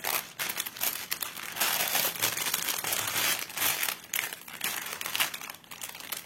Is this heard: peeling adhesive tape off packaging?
yes